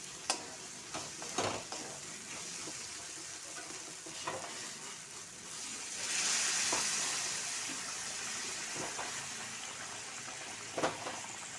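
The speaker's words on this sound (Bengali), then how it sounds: "এখন আলু দিয়ে দিচ্ছি।" Potatoes sizzle in a hot pan on a home stove, a steady close frying hiss broken by scraping stirs of a spatula, fairly quiet overall.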